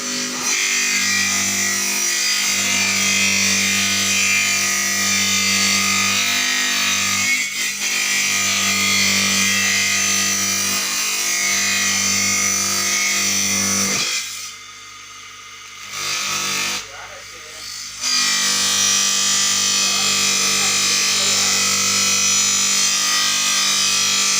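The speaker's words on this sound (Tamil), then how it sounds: "இதுகளுக்கு எப்படி பாலிஷ் போடுறாங்க அப்படிங்கிறத காமிக்கிறேன் பாருங்கள்" A power tool polishing a metal temple kalasam in a sculpture workshop gives a loud, steady motor whine with grinding texture, dropping out briefly twice midway before resuming.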